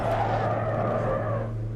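A race car engine drones steadily in the video game Automobilista 2 under a brief tire squeal as the rear wheels lock and skid, continuous and close, with no talking.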